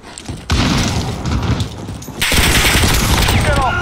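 Loud, rapid automatic gunfire and booming shots in a Call of Duty Modern Warfare match, with a sustained burst that grows denser and heavier partway through, close and dominant.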